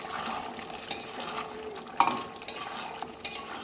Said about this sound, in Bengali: আর এই যে আলুটাও এখন দিয়ে নিলাম এখন দারুণ করে কষানো হবে